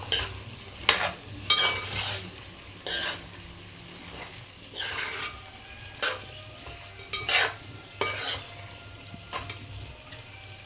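Spoon stirring chili powder into a chicken and bottle gourd curry in a pan, giving a run of intermittent scraping strokes over a low steady sizzle, moderately close, with no talk.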